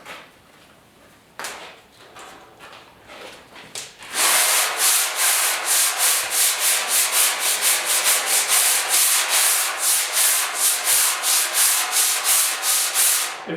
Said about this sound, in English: Now I just block it with some 80 grit